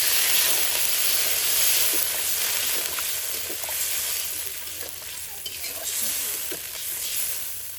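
A taro and fish curry hisses and sizzles loudly in a pan just after water is poured in, a steady bright frying hiss that eases slightly over time with faint stirring clicks.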